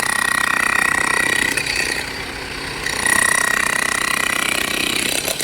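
Machine cutting asphalt tarring on a highway bypass under construction, a loud, steady grinding roar with a high whine throughout, close by.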